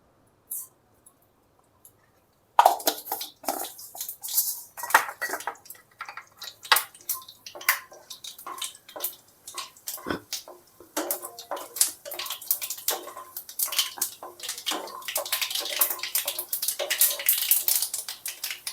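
Black mustard seeds pop in hot oil in a pan, starting after a brief near-silence and building into a dense run of sharp crackles and spits that grows busier toward the end, with no one speaking.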